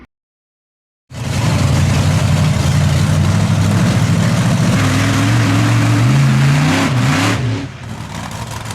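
The Swampthing monster truck's engine starts up and runs while the truck is parked, a loud, deep rumble that rises into a few revs before dropping back down.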